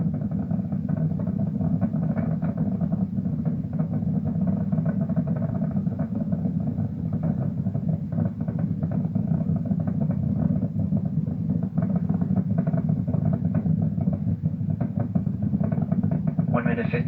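Artemis II rocket engines roaring during launch, a constant heavy low rumble with crackling texture sustained throughout, heard from a distance as a steady broadcast feed.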